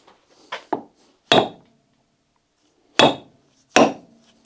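A hammer strikes the strut shaft and bolt of a Citroën XM several times in sharp, separate metallic whacks with pauses between them, close and clear with no talk.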